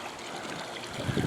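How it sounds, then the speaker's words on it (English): Swimming pool jets bubble water after the pool equipment is restarted, a soft continuous gurgling trickle that grows slightly louder and splashier toward the end, with no speech. "There's a lot of air coming out, as you can see. It's really bubbling along there."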